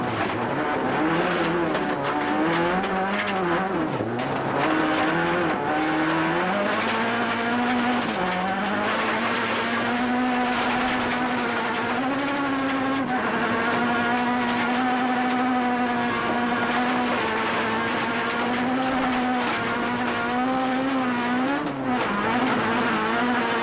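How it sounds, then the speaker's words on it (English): In-car sound of a front-wheel-drive rally car on a wet 2003 Cape Rally stage, its engine droning loud and close throughout, pitch climbing and dropping through gear changes, with tyre hiss and road noise underneath. "From the in-car camera on Damso's car, it was obvious how wet the road was"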